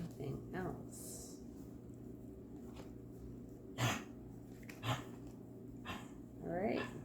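A pet dog gives a few short barks and whimpers indoors over a steady background hum, with people talking nearby.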